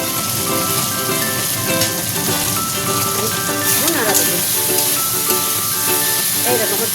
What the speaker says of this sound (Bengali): টমেটোটা একটু ভালো করে ভেজে নেবে